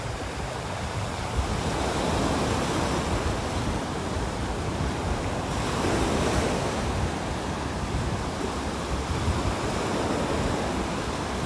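Steady surf washing ashore on North Naples beach, a continuous broad roar of breaking waves with some wind noise on the microphone while someone walks along the sand, no talking.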